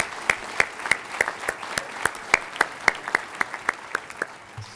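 Applause for animal science graduates at a fall college graduate salute ceremony; a steady stream of distinct, evenly spaced claps, fairly light and somewhat distant, with a faint voice at the very end.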